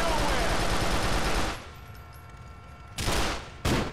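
Gunfire in GTA IV: The Lost and Damned, a dense sustained roar of rapid shots for over a second, then a quieter lull, followed by two more short loud bursts.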